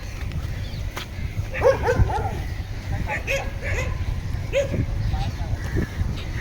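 A dog barks and yips on a beach during outdoor sports practice, short scattered barks at moderate distance over steady surf and wind noise, with people talking nearby.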